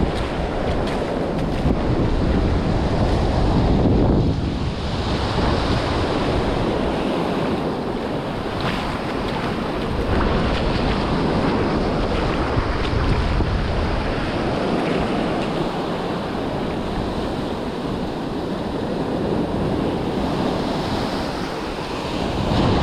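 Small ocean breakers rolling onto a beach as the tide pushes in, a steady loud wash of surf with gusting wind noise across the microphone and no talking.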